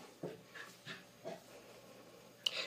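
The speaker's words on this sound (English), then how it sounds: "Sorry, that's my dog in the background." A small corgi dog in the background making soft panting breaths and a few whimpers, spaced out at low volume, then a short, sharper yip near the end.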